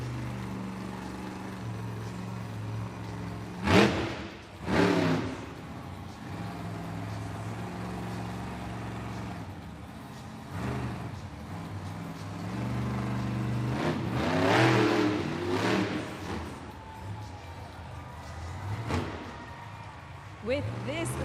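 A Monster Jam monster truck in an arena event during a two-wheel skills challenge roars with repeated revving bursts under a broadband crowd and arena din, with an announcer talking throughout.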